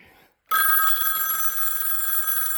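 After a brief silence, the bell ringer of a Western Electric 500 telephone rings loudly and continuously, a bright metallic jangle that fills the rest of the clip.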